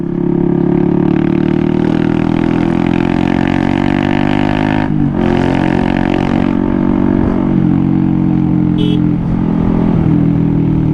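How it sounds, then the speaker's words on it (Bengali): A Thai-market 2021 Honda CBR motorcycle runs without an exhaust, its engine roaring loud and close in a steady deep drone, then dipping briefly midway before settling back into the constant rumble. "মানে গাড়ির সাউন্ড এত বেশি লাউড, হর্ন দিলে হর্নের শব্দ শোনা যায় না এখন"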